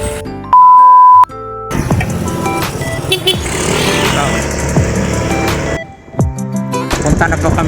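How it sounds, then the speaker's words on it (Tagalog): A motorcycle engine idles and revs close by, rough and uneven, after a brief electronic beep at the start, with nearby voices talking over part of it, on a ride to Lake Manito in Albay. "Yan yung motor niya."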